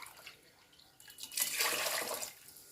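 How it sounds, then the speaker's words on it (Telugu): Coconut milk poured over rice in a pot, a soft close liquid splash that swells to a fuller steady pour for about a second before easing off, with no one talking. "రైస్ వేసేసి కొబ్బరి పాలు కూడా వేసేయాలి"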